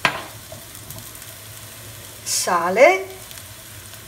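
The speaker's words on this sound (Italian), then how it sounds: "vado a mettere le melanzane così e le faccio rosolare" Eggplant pieces and onion fry in a pan with a steady, soft sizzle, close up, while a voice briefly speaks over the crackle near the end.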